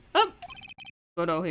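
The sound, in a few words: phone ringtone ringing in Ace Attorney video game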